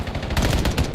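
Rapid gunfire in a ranked Search and Destroy match of a shooter game, a dense burst of close, loud shots that stays steady through the whole second with no voices.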